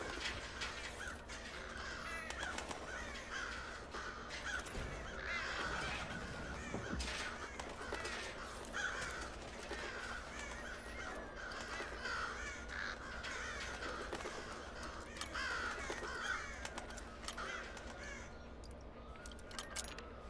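Crows cawing in the stealth video game Thief, repeated harsh caws scattered through a quiet, faint ambient background, fairly distant, with no talk.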